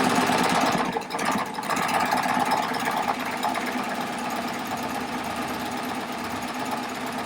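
A Baby Lock Triumph overlock serger runs steadily while sewing a narrow hem, giving a fast, even mechanical whirring and clatter that stays constant and close for the whole stretch, with no talk over it.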